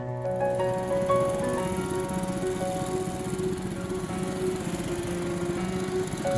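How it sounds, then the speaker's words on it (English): A gas-powered go-kart engine drones steadily at close range with a buzzing, tonal hum and slight pitch wobble, running without pause throughout. "You have the opportunity to hop into your own gas-powered go-kart and try to get the best lap time."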